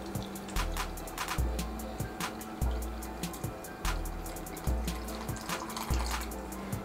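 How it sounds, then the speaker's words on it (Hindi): Water is poured into a jaljeera mixture with roasted cumin, a close splashing trickle of liquid alongside a repeating low rhythmic background thump. "और साथ ही पानी ऐड कर देते हैं"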